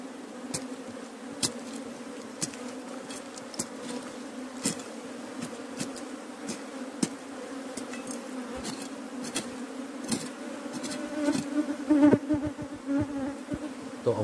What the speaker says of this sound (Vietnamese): Tổ ong này quấn rất là đông nhé.